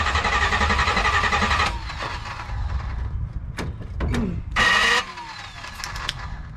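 Cranking and firing of an LS V8 swapped into a budget G-body car: a dense starter-and-engine roar for the first seconds, then broken bursts, knocks and a brief loud surge as it catches and settles into a rough idle, heard close with no talk.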